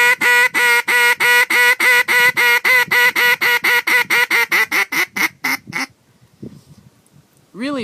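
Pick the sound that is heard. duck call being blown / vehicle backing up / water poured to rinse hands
duck call being blown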